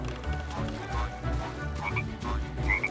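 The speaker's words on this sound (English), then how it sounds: "Also, another frog fell in." Frogs croak steadily in the Lego Party video game, a dense stream of low croaks over a busy game soundtrack with brief higher chirps.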